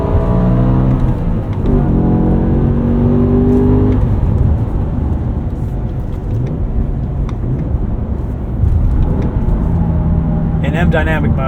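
A BMW M5 E60 with a V10 engine and six-speed manual revving while driving, a loud continuous engine roar with rising and falling harmonics through gear changes, heard from inside the car.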